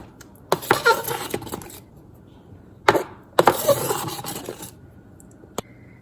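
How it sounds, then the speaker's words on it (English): Banana pudding being mixed in a bowl: two separate bursts of quick, close scraping and rubbing strokes, with short quiet gaps and a couple of sharp knocks. "So now we're gonna mix this up."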